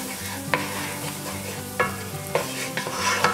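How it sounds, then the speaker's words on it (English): Flour is stirred into sausage gravy in a pan over a steady low sizzle, with a spoon scraping the pan in several distinct strokes spread unevenly across the clip. No one speaks. "just keep stirring until pretty much everything's all good and coated and all the flour's incorporated with your mixture here"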